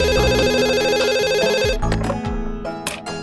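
A telephone rings in a home, a steady repeating electronic ringtone filling the first half before cutting off, followed by a few softer tonal bursts, loud and close with no talk over it.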